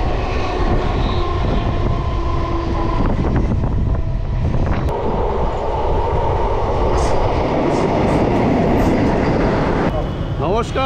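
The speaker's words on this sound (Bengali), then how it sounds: "আর এই যে ট্রেন চলছে দেখুন" A local train running on the Kolkata to Puri route, loud continuous rumble and rattle of wheels and carriages close by, with a brief rise of noise toward the end.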